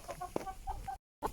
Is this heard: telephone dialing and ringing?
no